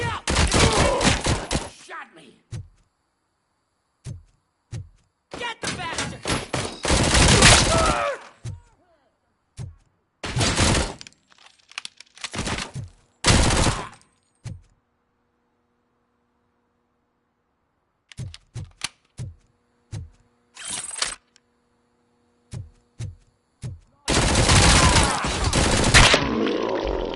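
Bursts of video-game gunfire from RoboCop: Rogue City, loud rapid volleys and single shots in clustered runs separated by silent gaps, with grunts and shouted voices mixed between.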